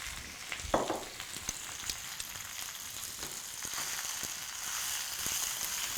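Spinach cooks down in a hot pan with a soft, steady sizzle and frying crackle, with a few light stirring clicks. It is quiet and close, with no talk.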